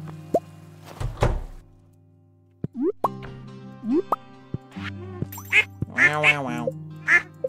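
Cartoonish duck quacks from a farming video game, several short nasal calls clustered near the end, mixed with game plops, pops and light background music, fairly close and moderately loud.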